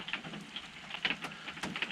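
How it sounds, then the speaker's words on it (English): Steady light rain patters with scattered drips and splashes, fairly soft, with no voices. "Nice rain going."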